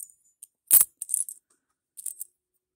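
Silver coins, including foreign pieces and an old Canadian quarter, clinking as they are handled and dropped: a few sharp metallic taps and one louder ringing drop, close up in a quiet room.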